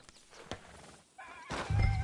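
A horse in Red Dead Redemption II gives a snort and then a rising whinny near the end, heard fairly close against quiet game ambience.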